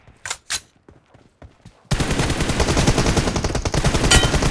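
Gunfire in a video game team deathmatch: a few sharp isolated shots, then a sustained rapid automatic burst that runs loud to the end.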